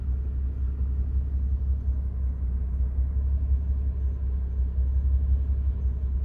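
Deep, steady engine and road rumble from a BMW M2 Competition running flat out at top speed on a closed airport strip, a dense low drone with no talk over it.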